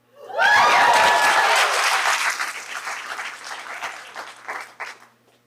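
Applause at a Long Beach school board meeting breaks out loudly and swells from a room of clapping hands, then thins into scattered, uneven claps that fade toward the end.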